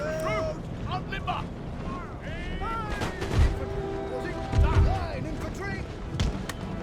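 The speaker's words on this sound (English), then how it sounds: "with the cannons firing away, that should be absolutely fine" Cannons firing in the video game Empire: Total War, several heavy booming shots spread across a few seconds amid battle ambience, with someone talking over them.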